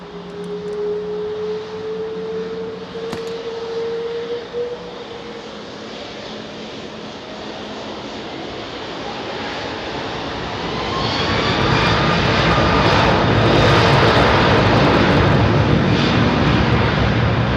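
Heavy jet airliners, among them British Airways A380s, depart Heathrow: a moderate engine rumble with a fading whine gives way partway through to a much louder, sustained full-power roar that stays strong to the end.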